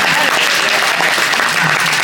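An audience at a community committee event applauds, a dense continuous burst of clapping from a crowd, loud and close.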